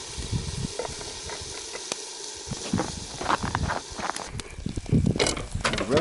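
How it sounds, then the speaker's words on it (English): Water poured into a hot covered pan on a winter camp stove hisses and steams, a broad sizzling wash with scattered clicks and clatter of the lid and utensils, fairly close, with brief voices. "Pour a little touch of water in there. Start steaming it."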